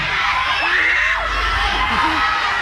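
A convention audience at a CONQUEST 2022 panel shouts and cheers all at once to be picked for a question, a loud, dense, unbroken wall of overlapping voices and whoops that lasts throughout.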